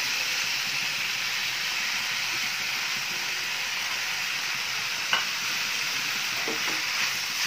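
Cooked lentils are stirred into banana flower kootu in a hot pan, a steady sizzling hiss throughout with a few soft scrapes of the spoon near the end.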